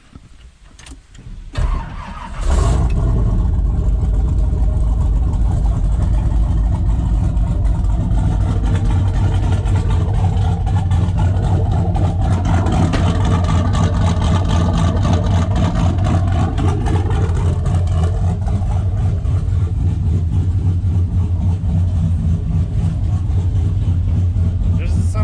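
A turbocharged, LS-swapped 1988 Chevrolet C1500 pickup engine cranks briefly, catches and settles into a loud, steady, rumbling idle that runs on unbroken and close by.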